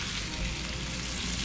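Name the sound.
psyllium-battered food sizzling as it starts frying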